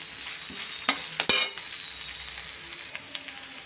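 Sliced onions sautéing in a pan for vegetable fried rice: a soft continuous sizzle broken by a few sharp spatula clinks and scrapes early on, then quieter stirring taps.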